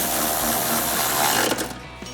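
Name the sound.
tightening Jeep running board bolts with a 13 socket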